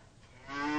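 Single cow on a 300-cow dairy farm lowing, a short moo swelling in loudness and ending abruptly, heard alone without talk.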